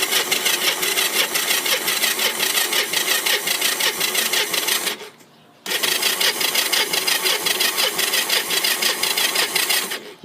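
Small three-wheeler engine cold starting on choke, firing in a fast, steady mechanical chatter that runs loud and close, drops out briefly midway, then catches again and keeps running.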